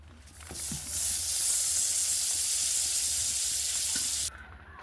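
Butter hitting a hot pan as rice payesh cooking begins, a loud close hiss that swells up quickly, holds steady for about three seconds, then cuts off sharply.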